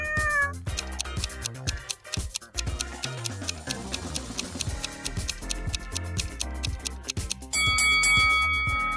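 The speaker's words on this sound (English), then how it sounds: "Grandma's cat hid somewhere inside the house." A house cat meows repeatedly indoors, its calls standing out over a busy bed of music with ticking and chiming tones throughout.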